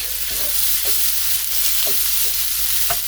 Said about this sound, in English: if we look at our frying pork now, this is our pork with our spices.